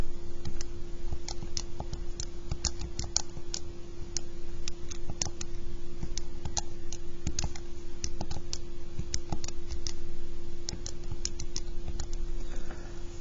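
Steady, rapid clicking of keys pressed on a graphing calculator while entering Y values into a statistics list, a close, dry tapping run continuing for several seconds over a faint steady hum.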